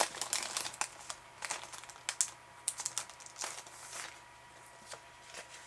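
Paper crinkles and rustles as a small card is opened, a close, steady stream of soft crackling with sharper crisp snaps throughout, and no voice.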